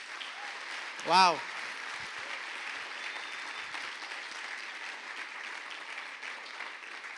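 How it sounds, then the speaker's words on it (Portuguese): A congregation applauds during a church service, a steady wash of clapping running throughout with one short excited shout near the start. "Vamos dar mais um aplauso para Jesus."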